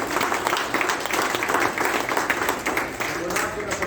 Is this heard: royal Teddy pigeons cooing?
no